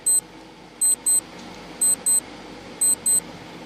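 A quiz countdown timer sounds sharp electronic beeps, mostly in quick pairs, spaced about once a second across a faint background hum, loud and clear.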